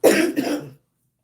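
A single harsh cough bursts out close up, trailing off quickly into silence.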